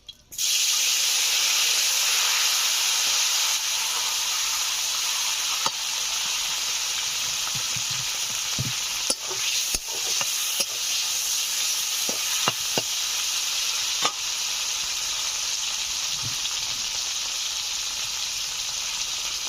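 Whole white cumin and chopped tomato hit hot leftover fish-frying oil, bursting into a loud, continuous sizzling hiss that stays strong throughout, with occasional clicks and light stirring knocks.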